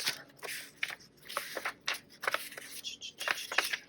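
A deck of tarot cards shuffled by hand, giving a quick irregular run of crisp rustling and riffling bursts close up, with faint talk around it.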